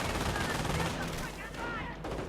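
Heavy machine gun fire in a video game rattles continuously and loudly, dense bursts of gunfire running throughout with a voice faintly underneath.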